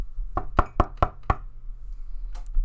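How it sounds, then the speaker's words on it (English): A knock on a front door: five sharp raps in a quick, slightly uneven run, close and loud, followed by quiet and a faint later rustle. "do you want to really hear like a little knock on the door?"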